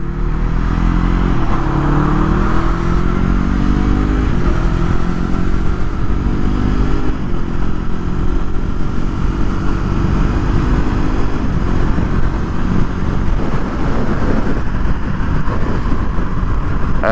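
A Yamaha R3 motorcycle cruises on a freeway at night, its engine a loud, steady drone that slowly rises in pitch through the gears, mixed with constant rushing wind noise from the rider's viewpoint.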